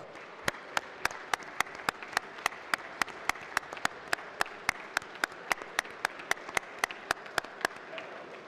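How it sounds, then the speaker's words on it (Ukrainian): Deputies in the Ukrainian parliament applaud in honour of soldiers on the front lines. The rhythmic unison clapping runs at roughly three sharp claps per second and holds steady throughout over a soft room murmur. "Не жлобіться на аплодисменти"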